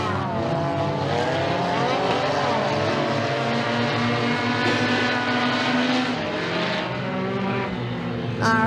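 Race cars roar together as a heat race gets the green flag at Raceway 7, a dense, loud engine drone with rising and falling pitch sweeps from the pack, no talk over it.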